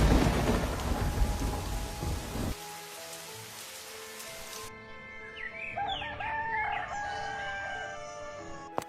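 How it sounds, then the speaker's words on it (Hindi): Heavy rain pours with rumbling thunder for the first couple of seconds, then cuts off abruptly, leaving a quieter scene where a rooster crows and birds chirp in the distance. "जाने कब ये बारिश थमेगी।"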